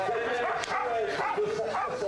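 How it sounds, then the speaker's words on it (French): Sled dogs at a dog sled race yip, whine and bark in a close, continuous excited chorus, with people talking over them. "Il y a de magnifiques chiens."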